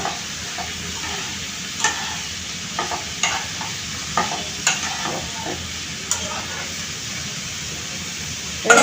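Vegetable bhaji with turmeric frying in a pan, a constant sizzle broken by repeated scraping stirs from a spatula, near and moderately loud with no voices.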